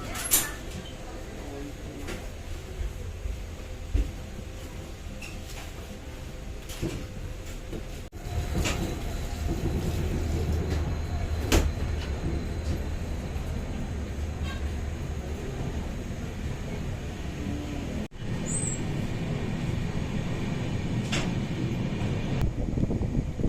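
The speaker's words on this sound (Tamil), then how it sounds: "நம்ம ட்ரெயின் கிருஷ்ணராஜபுரத்துலேருந்து கிளம்பிடுச்சு" Chennai-bound express train running at night after leaving Krishnarajapuram, heard from inside the coach as a continuous low rumble and rattle with occasional clunks and a sharp bang, steady and moderately loud.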